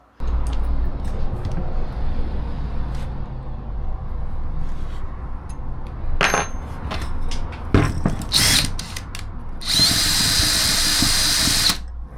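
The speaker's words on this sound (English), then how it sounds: "I'm going to drill 4 dug holes using this" Steady whir of a cordless drill boring into material, running in several bursts with brief pauses, close by and fairly loud, ending with a higher-pitched screeching spin.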